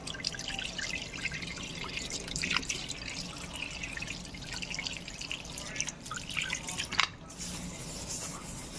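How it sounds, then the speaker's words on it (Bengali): Water running and splashing while an item is rinsed clean under a tap, a continuous close trickle with small drips and clatters, fairly quiet and steady. "এবার দেখুন আমি এটা পরিষ্কার করে দিচ্ছি"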